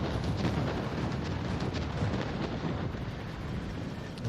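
A torpedo strikes the player's warship in a naval combat video game. It comes through as a loud, sustained rumbling roar that fills the whole moment, with no clear talk over it.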